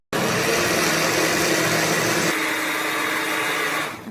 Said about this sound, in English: If you notice that your blender is not beating the mixture, just add some more milk.